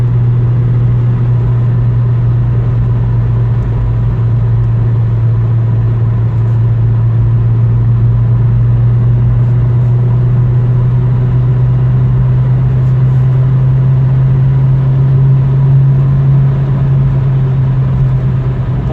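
A 1990 Volkswagen Golf II GTI cruises at highway speed, its engine holding a loud, steady droning hum with constant road and wind rumble beneath, unbroken and close from inside the car.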